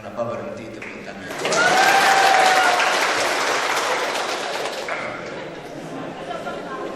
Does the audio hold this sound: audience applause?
yes